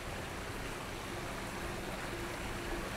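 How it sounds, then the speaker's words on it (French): Small artificial water cascades at a PTT petrol station with a 7-Eleven and Café Amazon give off a steady, soft, even trickling rush from nearby, with no voices. "Regardez, ils ont fait tout un système de petites cascades."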